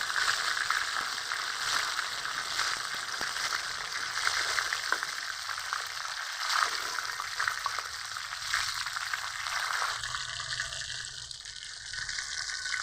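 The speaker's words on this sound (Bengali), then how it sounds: "এগুলো মুচমুচে করে ভেজে দিয়েছি, এখন তুলে নিব।" Loitta (Bombay duck) fish pakoras frying crisp in hot oil, a steady close sizzle and crackle with faint bubbling that holds throughout, easing slightly near the end, no voices.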